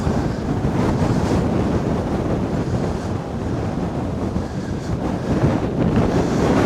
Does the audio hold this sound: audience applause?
no